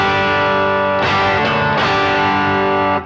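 Electric guitar on the neck pickup through a Power Burst boost plugin with the middle boosted, playing loud sustained distorted chords with a honky midrange; chord changes land near one and nearly two seconds, with no talking.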